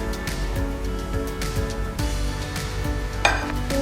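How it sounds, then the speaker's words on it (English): Chocolate cupcake batter with oil being stirred in a bowl, a steady wet, gritty swishing with soft rhythmic scrapes and a small clink near the end. "Now mix everything out."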